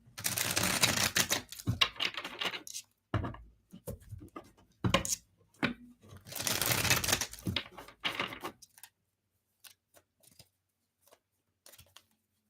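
Tarot cards being shuffled by hand, crisp papery riffles and flutters in uneven bursts with short pauses between them, close and fairly loud, ending in a few faint taps and near silence.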